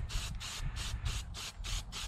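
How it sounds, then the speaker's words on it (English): Rhythmic bursts of an aerosol spray can applying red paint to a vintage McCulloch 610 chainsaw, about seven short hissing sprays in steady succession, close and fairly loud over a low background rumble. "smooth it with your finger a little bit and then spray it again"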